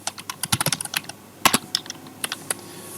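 Typing on a computer keyboard while entering a program in Maple software, with irregular bursts of crisp, close key clicks and brief pauses between them, heard alone without talk.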